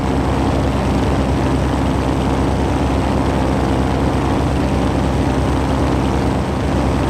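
A float plane's propeller engine in the Prepar3d flight simulator drones steadily and loudly throughout, a continuous low rumble with no talk over it.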